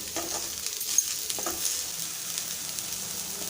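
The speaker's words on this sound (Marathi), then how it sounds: "छान परतून घ्यायचं आपल्याला" Spicy Malvani-style bitter gourd (karela) sautéing in a pan: a steady, soft sizzle with faint stirring scrapes, close and continuous.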